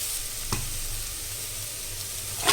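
Chicken goes into onion, tomato and masala for a restaurant-style chicken kulambu, giving a brief close sizzle with a couple of sharp scrapes and clatters from the pan.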